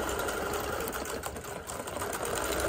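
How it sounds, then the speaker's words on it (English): A Bernina Q 24 longarm quilting machine runs steadily while stitching a row, a continuous rapid whirring hum with fine mechanical chatter, loud and close with no voices. "let it do that last row of stitching"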